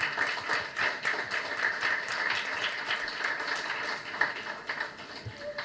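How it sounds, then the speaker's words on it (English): Dense, sustained applause from an audience at a foundation's seventh anniversary celebration, a steady crowd of clapping hands that continues without a break and eases slightly toward the end. "And keep that applause coming, ladies and gentlemen"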